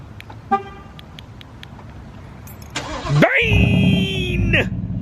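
A 2019 Mustang GT with its muffler deleted cranks and fires up, settling into a loud, steady rumbling idle close by after a few faint clicks, with a brief voice heard near the start.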